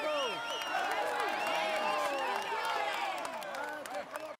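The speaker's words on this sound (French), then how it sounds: "Allez, on l'applaudit encore." A dense crowd applauds and cheers continuously, loud and close, with a shrill, whistle-like squeal sweeping through the noise, at the Tour de France 2017 stage 12 finish in Peyragudes.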